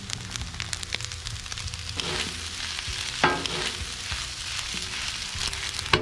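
Ground beef mixture for stuffed bell peppers sizzling on a hot Blackstone griddle, a loud continuous crackling fry with occasional sharper pops and scrapes, no voices.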